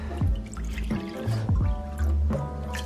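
Water poured from a Brita pitcher into a Breville BBM800XL bread maker, with a few short splashing, gurgling pours and drips close by and nobody talking.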